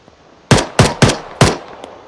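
Gunfire in the Arma 3 Ravage mod video game: four loud, sharp shots in quick, slightly uneven succession, ringing briefly after each, with no talk.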